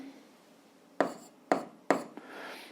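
A pen scratches out a math solution on paper in three short, distinct strokes spaced about half a second apart, followed by a lighter scrape. It is close and quiet, with no voice.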